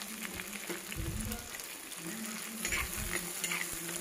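Shallots and onions fry in a clay pot, a low, steady sizzle with soft, repeated stirring scrapes, fairly quiet and with no voices.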